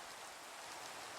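Steady rainfall in the video game Minecraft hisses continuously as an even, broadband wash with no speech over it.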